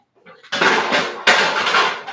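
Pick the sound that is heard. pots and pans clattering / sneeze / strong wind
pots and pans clattering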